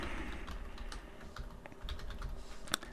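Keys clatter on a computer keyboard in uneven bursts of typing, close and fairly quiet, with no voices over it.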